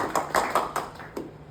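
A few hands clapping in a small room, about half a dozen distinct claps in a loose rhythm, close and thin rather than a full audience ovation.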